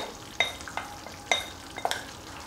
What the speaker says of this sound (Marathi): आता यात आपल्याला ती जी आपण परतून घेतलेली मेथी आहे ती घालून घ्यायची आहे, आणि मिक्स करायची आहे।